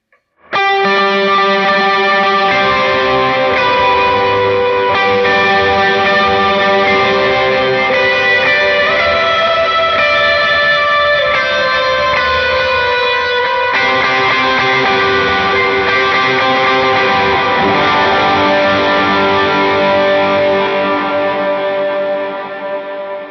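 Electric guitar played through a multi-effects preset for a worship tone, with shimmering delay and chorus ringing out in sustained chords and repeating notes, loud and continuous for the whole stretch without talk.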